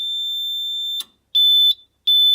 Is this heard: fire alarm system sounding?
yes